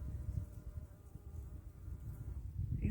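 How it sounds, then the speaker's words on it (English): Bee buzzing among autumn crocus flowers in a back garden, a continuous low drone that swells and fades as the insect moves close by, with no voices. "over here, the little bee, and he's trying to hide"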